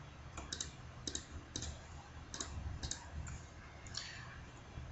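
Sharp computer mouse clicks during a photo upload on a computer, about nine quick clicks spread unevenly, some in close pairs, close and fairly crisp over a quiet low hum.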